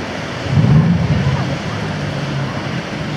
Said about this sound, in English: Strong wind, 50 meters per second, 30 knots.